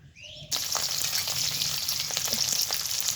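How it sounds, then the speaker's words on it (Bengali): Dried red chillies are dropped into hot oil for a cauliflower mash. After a faint, quiet start, a sudden loud sizzle breaks out and keeps up a steady, close crackle, with no voices. "শুকনো লঙ্কা তেলে দিয়ে দিব ওটা তেলের সঙ্গে খুব সুন্দর করে ভেজে নেব"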